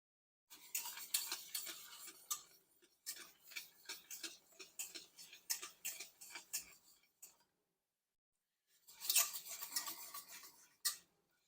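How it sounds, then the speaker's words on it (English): A wire whisk stirring cocoa into a Velveeta cheese fudge mixture, quick rhythmic ticking scrapes against the bowl in bursts, close but quiet, with a pause between rounds of whisking. "We're going to put in our half a cup of cocoa. And stir that in."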